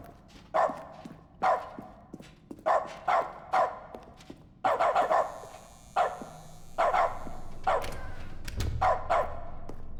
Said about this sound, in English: dogs barking